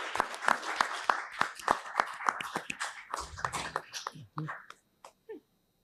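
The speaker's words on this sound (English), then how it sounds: "I think everybody's clapping more for Mira." A crowd claps steadily, the applause thinning out and trailing off into a few last scattered claps.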